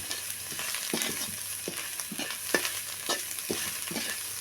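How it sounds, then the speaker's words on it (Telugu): Spoon stirring spice powders (garam masala, cumin and coriander powder) through prawn fried rice in a hot pan, with repeated scraping strokes over a steady background sizzle. "ఈ మసాలా అంతా వేసాం కదండి ఇప్పుడు బాగా కలుపుకుందాం"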